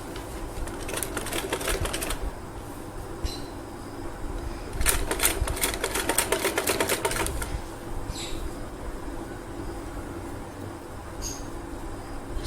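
A sewing machine stitching lace onto the neckline of an umbrella frock, running in two bursts of fast rattling stitches separated by quieter pauses and a few small clicks.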